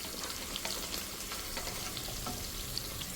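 Onions hitting a pan of green chillies already fried in oil give a steady, close sizzle with faint crackles, and no one speaks.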